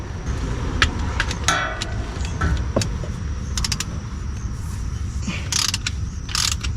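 A ratchet tightening the rear differential drain plug under a 2011–14 Dodge Charger, several short bursts of rapid clicking close by with metallic taps and jangles between strokes, no speech.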